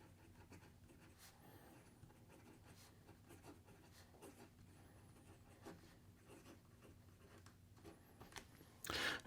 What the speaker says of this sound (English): here we go with the rest of the writing sample